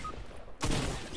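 A single sharp sniper rifle shot from the Fortnite battle royale game cracks out loudly after a short quiet stretch, followed by a brief noisy tail.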